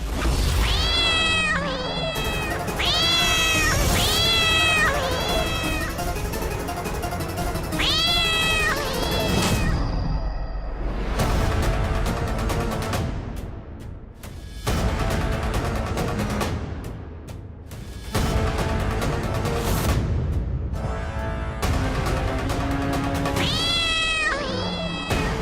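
Several cats meowing repeatedly in a Hindi TV drama scene, loud drawn-out wails that rise and fall in pitch and overlap one another, alternating with tonal background music for about twenty-five seconds.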